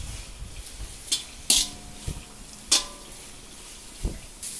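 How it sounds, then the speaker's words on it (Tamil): Cabbage, carrot and beans being stir-fried in a pan at home for chicken fried rice, a soft continuous sizzle broken by several sharp metallic clanks of a spatula against the pan. "இப்போ இது கூட 100 கிராம் முட்டைகோஸ், ஒரு பெரிய கேரட்டு, ஒரு 10 பீன்ஸு சேர்த்து லேசாக வதக்கிக்கலாம்"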